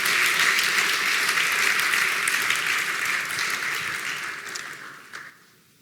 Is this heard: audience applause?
yes